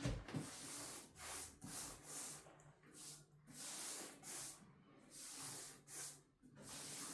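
A broom smears urethane finish across a wood floor in rhythmic back-and-forth strokes, each a soft, faint swishing rub close by, with no talking.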